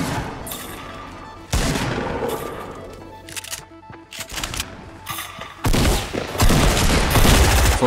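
Rapid bursts of gunfire crack repeatedly in a Fortnite-style shooter, with scattered single shots giving way to dense, loud volleys and booms toward the end.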